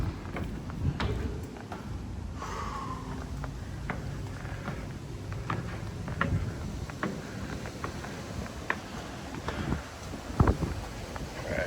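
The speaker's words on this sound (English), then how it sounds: "You can hear that wind going out there." Wind blowing outside a stone shelter on the New England Trail, a low rushing murmur heard from inside, with scattered footsteps and knocks nearby.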